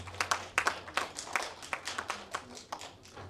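Scattered applause from a small audience at a Korean folk song contest award ceremony, uneven claps ringing out steadily for a few seconds, fairly light and not a full roar.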